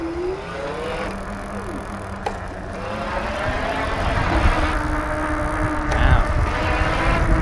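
The electric hub motor of a 2015 Rad Power Bikes RadRover fat bike whines under highest-level pedal assist, a rising and falling tone over tire and road rumble that grows louder toward the end.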